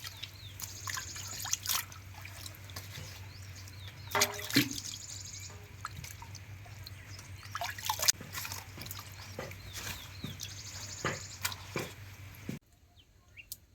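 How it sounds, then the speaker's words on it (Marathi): Taro leaves are rubbed and washed by hand in water outdoors at a farm, with soft continuous splashing and trickling, scattered sharper clicks and knocks, birds chirping faintly in the background, and a steady low hum underneath. "पानं आपण चांगले धुवून घेऊ तर सगळे असे चोळून चांगले धुवून घ्यायचे आपल्याला पानं"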